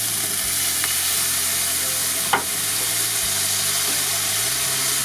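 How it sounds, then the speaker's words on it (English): A small splash of water hits a hot pan on a Lidl mini kamado grill where chicken breast has just been cooked, giving a steady, close sizzle with a brief sharp hiss partway through. "I'm just going to put a little tiny bit of water in there."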